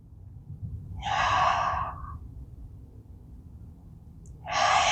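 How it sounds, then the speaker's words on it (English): Slow deep breaths during a yoga flow, a long audible exhale followed by a pause and the start of another, soft and close over a faint low room hum. "Breathing deeply."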